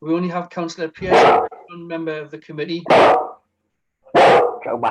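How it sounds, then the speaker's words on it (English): A dog barks three times in loud, sharp bursts close to the microphone during a committee meeting held over Zoom, cutting in between a man's speech. "Sorry about my dog, everybody."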